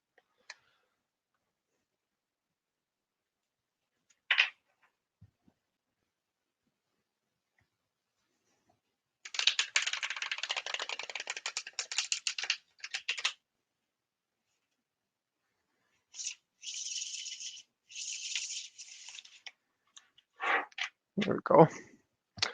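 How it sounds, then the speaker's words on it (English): A few quiet clicks, then a crisp fluttering burst of cards riffling for several seconds, followed by more riffles and soft handling noises. "loves watching people riffle shuffle"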